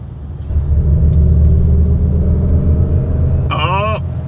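A 2023 Mercedes-Benz EQS 580 4MATIC electric SUV pulls away with a steady low synthetic drive hum under cabin rumble, and a voice briefly speaks near the end.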